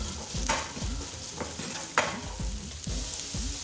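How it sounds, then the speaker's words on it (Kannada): A spoon scrapes and stirs chickpea usli in a pan just after salt goes in, with steady rhythmic strokes over a soft sizzle, close and clear with no talking. "ಈಗ ರುಚಿಗೆ ತಕ್ಕಷ್ಟು ಉಪ್ಪು ಹಾಕಿ ಮಿಕ್ಸ್ ಮಾಡಿ"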